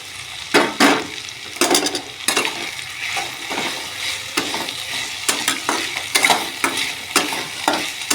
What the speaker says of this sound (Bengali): আলুটা একটু কষানোর পর কেটে ধুয়ে রাখা সজনের শাকটা দিয়ে দেবো